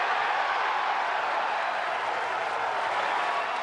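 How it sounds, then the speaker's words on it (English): A big crowd of Rutgers fans roars and cheers in a dense, steady wash of noise at the 2020 Big Ten Wrestling Championship finals. It is unbroken and loud, with no clear voices standing out. "You hear that big crowd."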